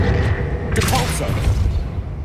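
A Depulso force spell fires in Hogwarts Legacy with a deep rumbling whoosh and boom over the game's background noise, one brief burst in the middle.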